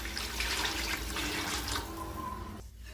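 Water pours steadily into a pot of fried vegetables and rice, a close, even rushing splash that thins out near the end.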